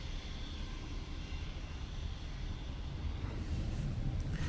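An airliner arriving at Manchester Airport in wet, windy weather makes a low continuous rumble, moderately distant and fairly faint, steady throughout with wind noise.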